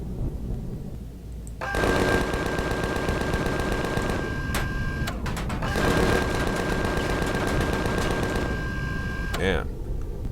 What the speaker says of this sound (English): Maybe I'll use the few bullets I have left on my minigun here.